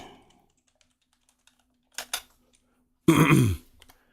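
Keystrokes on a computer keyboard, a few scattered quiet taps followed by a short burst of faster typing, close and sparse in an otherwise quiet room.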